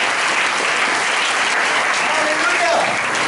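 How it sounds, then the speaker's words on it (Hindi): A church congregation applauds in a steady, dense wash of clapping that fills the whole stretch with even loudness, with no break and no clear voices above it. "हम इस महान गवाही के लिए, जोरदार सुमति के लिए ताली बजाएंगे।"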